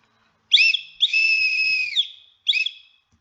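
Three shrill whistle blasts, a short one, a long sustained one, then another short one, loud and clear with nothing else around them.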